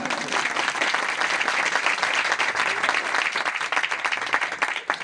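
A church congregation applauds during a worship service, producing dense, steady, loud clapping that fills the whole stretch without pause.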